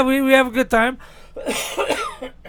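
A person on a live radio stream coughs once or twice at close range, followed immediately by talking.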